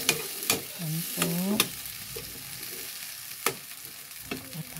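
A pan of tomatoes being stirred with fish frying for a Filipino sarsadong isda dish, with scraping stirs near the start and a steady sizzle underneath, plus a few sharp clinks of the utensil against the pan.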